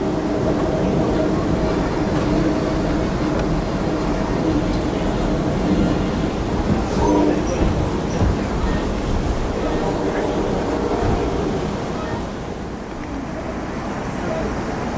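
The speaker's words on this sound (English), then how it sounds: "Now I'm back, zooming by it on the train." Amtrak Coast Starlight passenger train, southbound Train 11 in Oregon, rolling at speed with a steady, loud broadband rumble and rail noise throughout, easing slightly toward the end.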